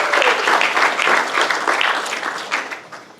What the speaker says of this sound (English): So let's clap it up one more time